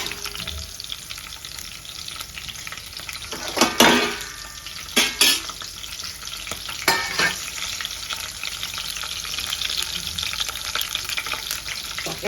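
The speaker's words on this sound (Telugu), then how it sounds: "చూడండి మంచిగా పచ్చిమిర్చిస్ వేగుతున్నాయి మనం వేసుకున్న ఆవాలు తర్వాత శనగపప్పు ఉద్దివాళ్ళు అన్నీ కూడా మంచిగా వేగుతున్నాయి" Green chilies, mustard seeds, chana dal and urad dal frying in oil: a steady close sizzle with mustard seeds popping, interrupted by a few louder bursts of stirring and scraping against the pan around the middle, and no one speaking.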